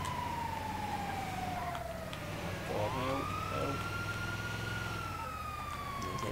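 A wailing ambulance siren in GTA V slides downward, then swoops up and holds a steady tone over a low engine rumble, moderately loud.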